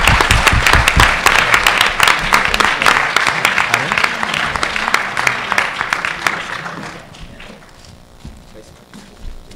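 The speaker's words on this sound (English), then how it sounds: "let's have a round of applause again for these splendid speakers" An audience at a university debate on Edward Snowden gives loud, sustained applause for the speakers, dense clapping close by that gradually thins and fades toward the end.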